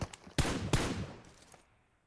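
Gunfire in the mobile shooter PUBG Mobile: a couple of quick close bursts of shots ringing out loudly, then tailing off into quiet.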